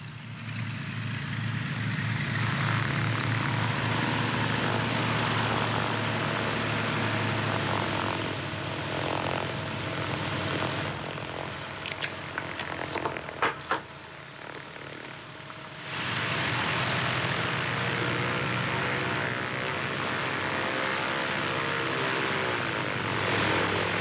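A propeller airplane taxis on an airport apron with a steady droning engine whine and humming tones, dipping and fluttering briefly midway before the drone resumes at full strength.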